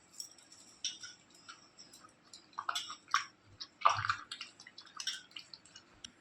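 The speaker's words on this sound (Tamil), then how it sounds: "அது கூட கொஞ்சம் கல்லுப்பு சேர்த்து கரைச்சி எடுத்துக்கோங்க" Soaked tamarind and tomato are squeezed by hand with rock salt in a bowl of water for pepper rasam, making quiet, irregular wet squelches, drips and little clicks, with a fuller squish near the middle.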